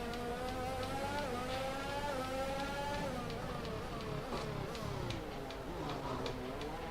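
A Formula 1 car engine in the video game F1 2021 whines at high revs, pitch rising and dipping through gear changes, with ticking clicks scattered throughout.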